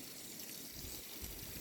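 Spring water pours and gushes steadily from a natural outlet, a continuous close wash of liquid noise with no talking over it.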